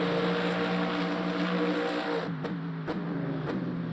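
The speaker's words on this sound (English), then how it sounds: "The V8 engine of the AMG just sounds so incredible." The AMG LMGT3's V8 engine in the racing game Le Mans Ultimate on the Bahrain Outer circuit drones at steady high revs, with brief dips at a few gear shifts, moderately loud and continuous with no talk.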